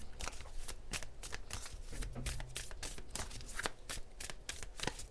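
Tarot oracle cards are shuffled close up in a quiet room, a rapid run of crisp riffling flicks and soft slaps at an irregular rhythm, with no voices.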